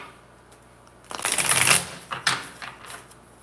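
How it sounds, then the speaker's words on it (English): A deck of cards riffled in one quick burst, a crisp close fluttering rattle followed by a couple of softer taps as the cards settle, with a quiet background. "One more shuffle."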